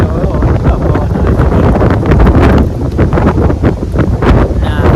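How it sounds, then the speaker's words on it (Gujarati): Strong wind blows outdoors on a farm during a stormy spell, a loud, steady gusting roar buffeting the microphone throughout with no break. "અત્યારે પાછો પવન આવવા મળ્યો"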